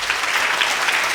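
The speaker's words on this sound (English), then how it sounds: "Wow, that's a thunderous applause." Brief burst of audience applause after an artist's lecture, a thick, even wash of many hands clapping at a steady level.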